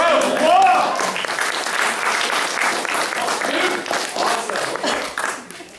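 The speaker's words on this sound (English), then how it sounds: "Give Danita a big round of applause." Steady crowd applause for a student at a family martial arts belt ceremony, filling the room evenly for several seconds, with voices mixed in and a clap-filled tail that thins near the end.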